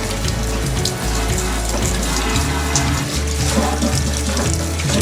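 Water runs steadily into an emptied deep fryer as it is rinsed clean, a continuous close splashing and hiss of flowing tap water with no pauses.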